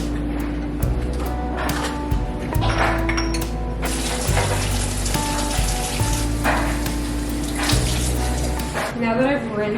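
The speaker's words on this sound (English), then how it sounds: "I still wash them with soap and water, obviously" Baby bottles being washed under running tap water in a kitchen sink, a continuous loud splashing flow with clinks and knocks of plastic and bottle parts against the basin throughout, no talking.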